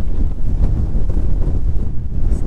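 Strong wind gusting over an open mountain summit near Vârful Neamțului in the Baiului Mountains, a constant loud rumbling roar buffeting the microphone, with no voices.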